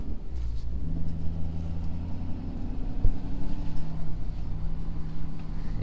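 Low, steady rumble of a Powerstroke diesel truck engine fitted with an S&B air intake, heard from inside the cab while towing a heavy load, a constant deep drone with slight swells and no talking.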